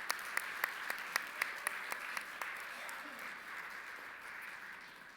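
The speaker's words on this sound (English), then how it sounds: "I'd like to give them another round of applause for coming up and explaining that to us." Audience at an annual general meeting giving a round of applause, a fairly faint patter of clapping with a string of sharper individual claps at the start that fades out after a few seconds.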